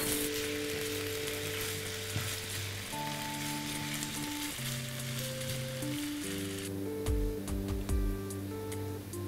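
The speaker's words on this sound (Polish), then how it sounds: "Wrzucamy do garnka i mieszamy." A pot sizzles steadily as spices, including marjoram, are stirred in, with a continuous frying hiss and occasional scraping, and no talking.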